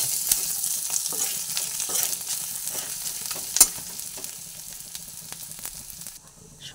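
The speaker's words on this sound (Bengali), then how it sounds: "সব দেওয়ার পরে এবার তেলের মধ্যে ভালোভাবে ভেজে নিচ্ছি।" Spices and ginger frying in hot oil in a pan, a bright crackling sizzle with repeated scraping strokes of a spoon stirring, one sharp clink partway through, fading quieter toward the end.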